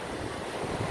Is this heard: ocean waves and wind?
yes